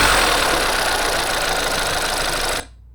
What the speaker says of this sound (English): Start it up, let's have a listen. It's probably going to make it a bit noisy.